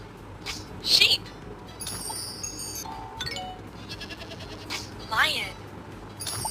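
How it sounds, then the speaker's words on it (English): Sheep bleat in a few short, wavering bursts, spread across the stretch and heard over a constant background hiss. "Sheep."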